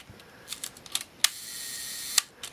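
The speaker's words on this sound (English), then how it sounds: "So once the shutter has been run a number of times and is exercised, it seems just fine" A Ricohflex TLR camera shutter fires several times in a row, with sharp mechanical clicks at irregular intervals and a brief whirring hum between two of the releases, all close and quiet.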